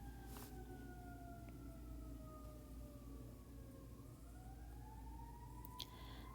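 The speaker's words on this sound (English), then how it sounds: "I have quite a bunch of fire trucks going by outside my studio right now" Fire truck sirens passing outside a building, a faint wailing tone that slowly falls in pitch and then rises again, muffled and distant over a low steady rumble.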